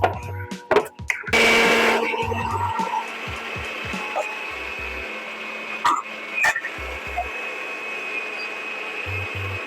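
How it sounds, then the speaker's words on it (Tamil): A mixer grinder whirs loudly for about a second while grinding protein chicken sandwich ingredients with salt. Brief clatters follow, and a steady hum lingers quietly underneath. "இப்போ இதை வந்து கிரைண்ட் பண்ணிக்கலாம்"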